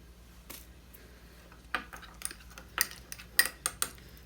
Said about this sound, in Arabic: واقلب كده الصوص بتاعي